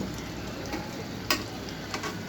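Khichuri rice is stirred in a pot over a soft steady sizzle, with a couple of light spoon knocks against the pot, close and fairly quiet, with no talk.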